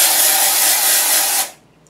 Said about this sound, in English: you really have to spray it like a foot away